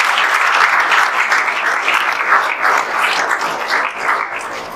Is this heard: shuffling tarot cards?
no